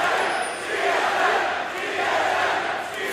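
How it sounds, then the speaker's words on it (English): A large esports arena crowd roars and chants for TSM during a CLG vs TSM League of Legends finals game, a dense, sustained wash of voices rising and falling. "TSM definitely audible through the noise of the crowd"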